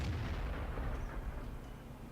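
Tank cannon shots in World of Tanks, heavy booming blasts with rumbling low-end decay that fill the short stretch loudly, with no talking over them.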